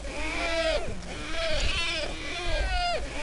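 Seal call played as a quiz sound in the video game Revenge of the Sunfish: three or four loud, repeated bleating cries, each a rising-then-falling wail, over a steady background hum.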